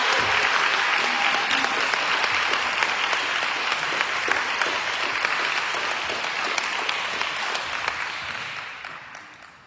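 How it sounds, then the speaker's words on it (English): Sustained applause from an audience at a Rockdale Democratic candidate forum, greeting a Commissioner Post 1 candidate; dense, steady clapping fills the room for nearly ten seconds before tapering off at the end. "Let's give her all a round of applause."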